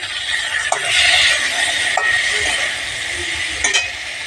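A spoon stirs red amaranth greens in a cooking pan, a steady sizzle-like hiss running under a few light clinks of metal against the pan, close up with no talking.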